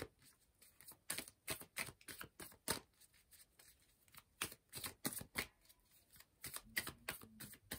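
Tarot cards shuffled by hand for a reading, a close, crisp run of rapid riffling bursts and snaps repeating steadily, with no talking.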